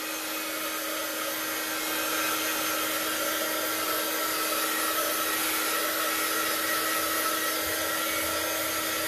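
A hair dryer blows steadily and loudly up close, drying watercolour paint on a scrapbooking galaxy background, with a constant whooshing roar and a fixed motor whine for the whole span, no voices.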